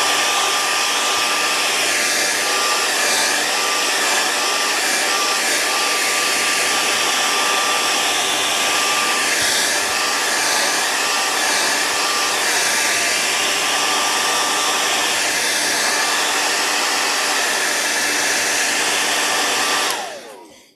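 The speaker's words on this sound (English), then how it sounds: "let's hair dry this" A hair dryer blows steadily on a freshly painted jerkbait fishing lure, a loud, close, continuous whirring roar lasting about twenty seconds before it cuts off.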